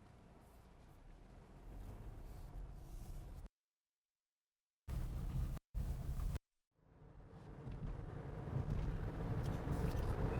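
A 2019 VW Jetta pulls away after being put into gear, its low engine and road rumble building steadily, broken by a couple of abrupt dropouts into silence.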